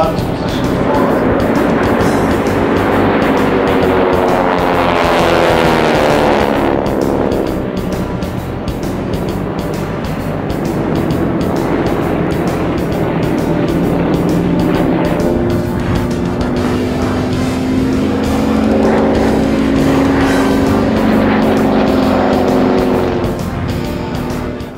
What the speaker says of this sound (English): The familiar sound of the Harvard is known worldwide